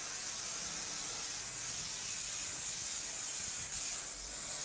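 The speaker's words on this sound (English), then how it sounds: "I'm going to spray all over the door." Cleaner sprays onto a shower door in a continuous, close airy hiss lasting several seconds, with a faint soft knock partway through.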